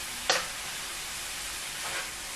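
Noodles and vegetables warming in a stir fry pan give off a steady, fairly quiet sizzle, with two short bursts of hiss as food is stirred.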